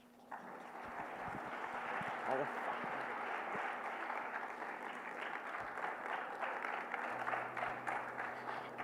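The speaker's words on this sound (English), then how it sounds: "Let us all give our performers the applause they truly deserve" Audience applause for performers at a TEDx Youth event, a steady broadband wash of clapping that holds at a fairly even level for nearly nine seconds with no clear break.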